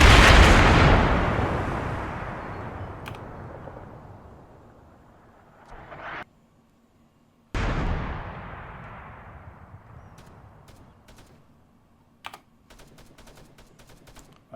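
Artillery rounds landing close by in Arma 3 on the island of Tanoa, a heavy blast with a long rumbling decay, then another sharp boom after a brief silence, followed by scattered distant gunshots.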